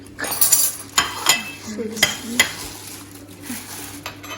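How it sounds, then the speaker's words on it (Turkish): Plates being lifted out and handled, giving several sharp ceramic clinks and knocks close by, spaced irregularly over a low steady hum, with faint background talk. "bir tane tabağımı çıkarayım da bir bakalım ha"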